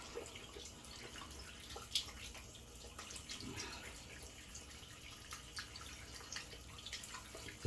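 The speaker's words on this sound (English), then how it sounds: "Now I'm just going to run my hands rinse my hands off under warm water" Warm water runs steadily from a bathroom tap while hands are rinsed clean of water-based pomade, a soft continuous splash with faint drips and no talking.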